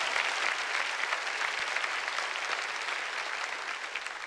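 A church congregation applauds continuously and evenly for several seconds, a dense wash of clapping that stays steady before easing slightly toward the end, with no voices standing out.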